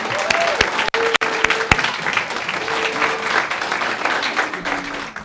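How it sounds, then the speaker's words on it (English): An audience at a school board meeting applauds students advancing in a competition, steady sustained clapping from many people, with a few sharp louder claps and brief whistle-like tones mixed in. "let's give them a round of applause"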